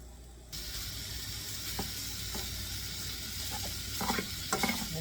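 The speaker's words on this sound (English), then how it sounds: "mash this down and get it all fried up" Sage sausage mashed and fried in a pan: after a brief quiet start, a constant close sizzle with occasional soft scraping and mashing knocks, growing busier toward the end; no talk.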